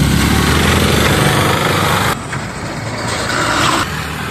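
A modified Bajaj auto rickshaw with a tapered bearing cone set and luxury shock absorbers runs close by on a trial drive, its small engine buzzing loud and steady, easing slightly partway through before picking up again.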